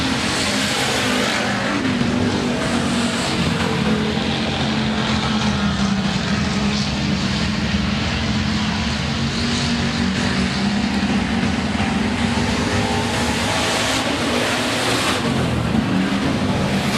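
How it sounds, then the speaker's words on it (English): Hobby stock race cars roar around a speedway during a heat race, a loud continuous engine drone with rising and falling passes, no talk over it. "Still a good race for the second spot as they head to turn 3 for the last time."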